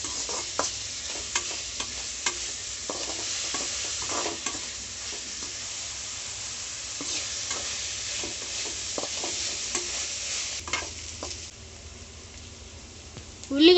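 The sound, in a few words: onions frying and being stirred in a pan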